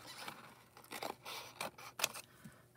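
Scissors snipping hair foil for a toner application at a salon, several short crisp cuts and crinkles close up, fairly quiet with no talking.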